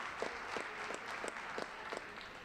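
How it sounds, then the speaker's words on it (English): Applause at a girls high school basketball semifinal as a player reaches her 1,000th career point, steady mid-distance crowd clapping with sharper nearby claps punctuating it. "I had to clap for Claire Marion"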